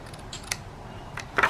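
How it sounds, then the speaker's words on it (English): Small scissors snip paper in a few quick, close, quiet cuts against a low room hum. "use the smaller scissors for that"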